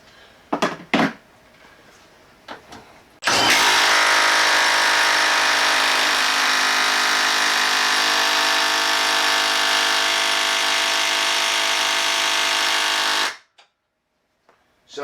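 Milwaukee M12 3/8-inch stubby impact wrench on mode 3, firing in one loud, steady whirring blast of about ten seconds after a few sharp clicks, then stopping abruptly.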